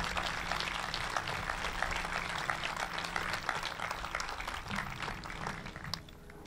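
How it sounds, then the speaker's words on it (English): Applause for senior class officers at the Carver Class of 2022 graduation ceremony, a steady wash of many hands clapping from a large crowd that carries on for several seconds before tapering off near the end. "But a nice round of applause for our senior class officers."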